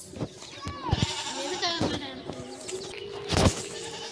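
Goats bleat several times in a village at Pongal, the calls close and distinct over light background chatter and other farm animal sounds.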